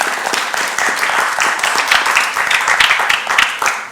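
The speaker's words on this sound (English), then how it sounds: "Let's give her a round of applause." Brisk applause from a Web3 summit audience crackles steadily for a few seconds, dense and fairly loud, with individual claps standing out.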